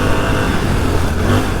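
A 250cc motorcycle engine revving hard and steadily, loud and close up, with a continuous throaty roar and no talking.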